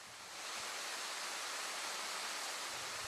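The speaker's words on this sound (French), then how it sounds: "L'eau y jaillit de la falaise et au milieu coule une cascade." A waterfall pours from a cliff in an isolated limestone valley, giving a steady, broad rushing roar that swells in during the first half second and then holds constant.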